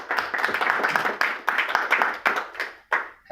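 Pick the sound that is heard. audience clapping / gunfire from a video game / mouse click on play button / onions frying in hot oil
audience clapping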